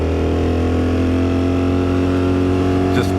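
A motorcycle cruises along a road with a loud, steady engine drone and rumbling harmonics, close and unbroken throughout, with a brief scratchy rustle near the end.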